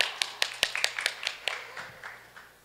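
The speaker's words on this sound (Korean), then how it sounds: "힘찬 박수 부탁드립니다." Sparse claps from a small conference audience, about a dozen distinct hand claps ringing out irregularly over a couple of seconds before trailing off, fairly close and without talk.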